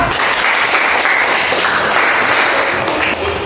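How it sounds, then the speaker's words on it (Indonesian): A classroom group claps for the second team's presentation, steady dense applause filling the room for a few seconds before easing slightly at the end. "beri aplaus dulu untuk kelompok 2"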